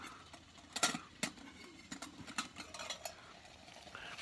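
Several sharp metallic clinks and scrapes of a spoon against a pot of boiling water, irregular and fairly close, over a low background hiss.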